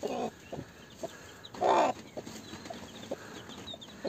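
A hen with her newly hatched chicks on a farm clucks in short repeated bursts, with one longer louder call midway, fairly close and with no talk.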